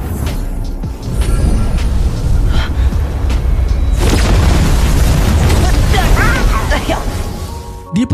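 A loud, sustained booming blast with heavy low rumble runs through most of the clip, with faint voice-like sounds mixed in near the end.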